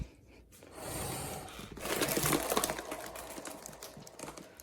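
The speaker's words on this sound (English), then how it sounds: "Not only are the flap valves noisy because they're still that early design, just bigger, the tape also crinkles like crazy." An early hand-operated bellows prototype with noisy flap valves, crinkly tape seals and 1-inch hose ports gives off a rough, breathy rustling and crackling that swells and fades as it is worked, with no voices.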